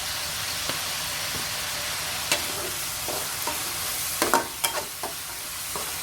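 Meat being stir-fried in a pan gives a steady sizzling hiss, with a few sharp scraping and clinking accents from the utensil near the end; no one speaks.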